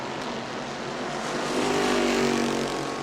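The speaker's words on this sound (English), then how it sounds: "Justin giving the business to Tyler Prenesti down the front straightaway that time" Super Stock race cars on the New Smyrna oval pass down the front straightaway, a distant roar that swells louder toward the end over a wide wash of track noise.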